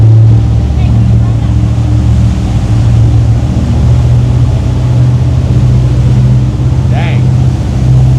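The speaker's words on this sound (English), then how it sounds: "You hear these engines roaring maybe on camera." Twin Scania engines on a 2,300 HP fishing yacht roar steadily at full power, a loud continuous low drone with wind and water rush, with voices speaking over it.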